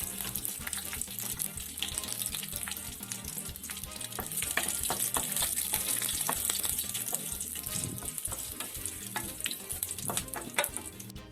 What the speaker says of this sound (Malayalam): ഉണക്കമുളകും കൂടി ചേർത്ത് ഒന്ന് ഇളക്കിയെടുക്കാം